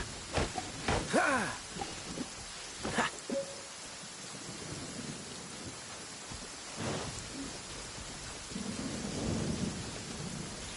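Rain and rolling thunder in the video game Genshin Impact: a steady wash of rainfall with sharp cracks and low rumbles, moderately loud, without speech.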